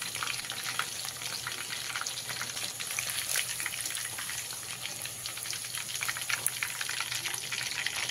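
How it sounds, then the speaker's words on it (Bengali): Chicken pieces fry in hot oil for chilli chicken, a continuous close crackling sizzle with lively bubbling spatter and no talk. "সমস্ত চিকেনগুলো আমি এইভাবে ভেজে নেব।"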